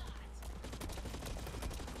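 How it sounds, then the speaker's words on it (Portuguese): Rapid bursts of automatic gunfire in a free first-person shooter on PS4, a dense rattling volley of shots in game audio, steady and moderately loud throughout. "Nossa, errei todos os tiros, né?"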